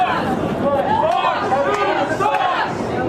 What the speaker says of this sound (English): they're actually chanting, Fox News sucks.